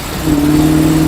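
A 1968 Dodge Charger V8 fed by a Thermoquad carburetor is pushed to full throttle, and its loud, steady roar swells in after a short quiet lead-in and holds with no one talking over it.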